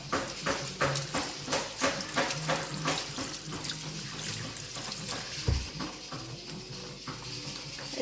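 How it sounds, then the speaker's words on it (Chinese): Kitchen tap water runs into a sink while raw chicken breast is rinsed, a steady splashing stream that pulses in rhythm as the meat is turned, with a brief thud midway and no talking. "用水冲一下。"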